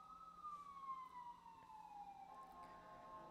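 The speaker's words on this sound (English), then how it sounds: "Sorry about the sirens, guys." Emergency vehicle sirens wail outside, faint and distant, with a long falling tone that sweeps down and then levels off over a low background hum.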